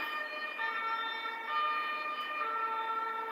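An ambulance siren wails steadily throughout, loud and continuous with no talking.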